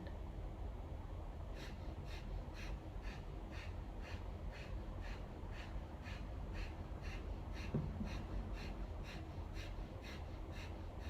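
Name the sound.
rapid breath of fire breathing in Kundalini yoga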